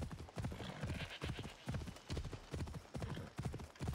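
Rapid, heavy hoofbeats of a horse in Assassin's Creed Odyssey pound in a galloping rhythm, close and steady, with a whinny blending into the clatter.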